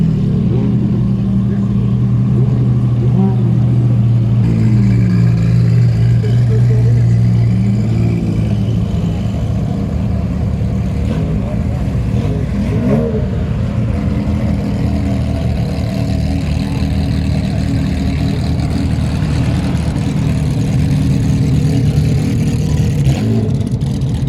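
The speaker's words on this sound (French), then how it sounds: "Là, ce que vous entendez derrière, c'est les deux d'ailleurs, F355 Challenge." Two Ferrari F355 Challenge race cars rev their engines nearby at an Italian car meeting, giving a continuous loud engine roar with rising revs, while someone speaks French over the noise.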